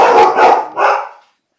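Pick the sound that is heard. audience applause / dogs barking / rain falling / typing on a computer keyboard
dogs barking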